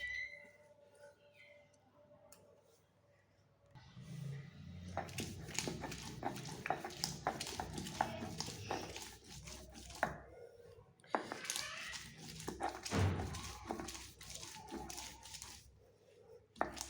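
Jujube fruits being crushed and mashed for a sweet, sour and spicy chutney: soft, wet squishing and pounding thuds repeated irregularly, fairly close, after a quieter opening with faint background sound.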